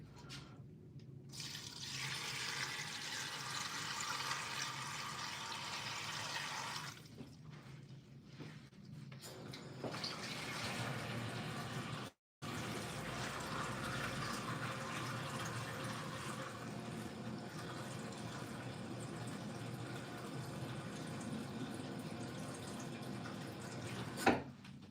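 Water runs from a tap into a pot for noodles in a home kitchen, a steady close rushing stream that shifts in tone as the pot fills, with brief pauses and a short gap midway.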